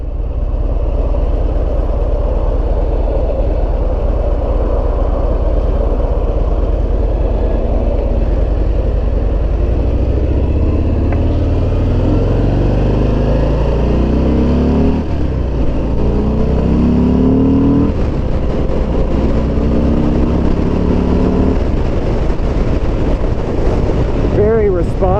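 Harley-Davidson Fat Bob motorcycle with a 107 or 114 engine, heard while riding: a steady, loud low rumble with rising and falling engine pitch as it revs, mixed with heavy wind noise throughout.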